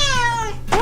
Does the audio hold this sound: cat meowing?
yes